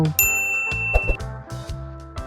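A single bright notification bell ding rings out near the start and its tone lingers, layered over steady background music.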